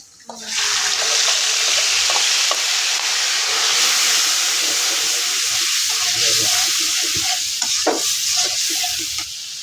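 Spice paste (masala) fries in a pan with a steady, close, loud sizzling hiss, broken by occasional stirring scrapes and light clinks.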